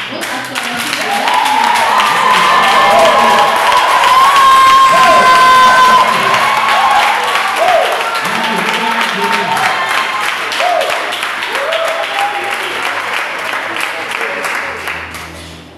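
A church congregation at a worship service cheers and applauds loudly and continuously, with shouts, whoops and dense clapping that slowly ease off toward the end.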